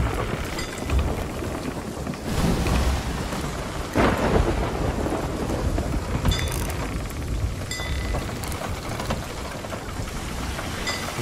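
A thunderstorm at sea in the pirate game Sea of Thieves, with steady heavy rain and rolling thunder that swells in loud bursts, continuous and close throughout.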